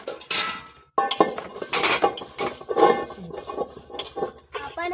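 Dishes, pots and utensils being scrubbed and washed by hand in a home kitchen, with repeated clinks, scraping and rubbing in irregular bursts, close and fairly loud, no talking.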